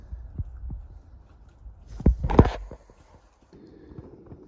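A horse chomps and crunches at crumbs in scattered bursts, with soft thuds and snuffling, loudest in a brief flurry midway, then quieter.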